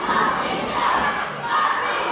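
A loud wrestling crowd roars and cheers throughout at a match in Mexico, a dense, steady wall of shouting voices that swells and dips slightly without pause.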